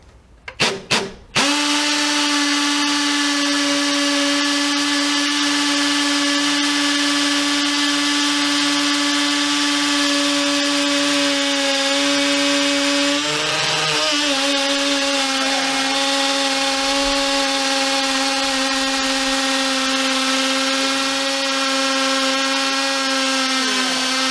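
A Makita HP332D 12V hammer drill with a 6mm bit bores into brick, a loud continuous whining motor drone with hammering buzz after a few short starting bursts, running steadily and close for over twenty seconds with a brief wobble midway.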